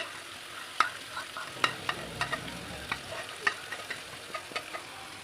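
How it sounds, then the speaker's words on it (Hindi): Chicken for a paratha roll fries gently in a pan over a low flame: a quiet hiss broken by scattered light crackles and spits, with no one speaking. "लो फ्लेम में मैंने इसे फ्राई करूँगी"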